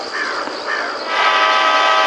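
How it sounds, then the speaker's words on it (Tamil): A loud, sustained electronic horn in a multiplayer spider horror video game blares steadily, brassy and continuous, with a shift to a fuller, harsher tone partway through. "ஏய் எவன் தான் ஹாரன் அடிக்கிறது"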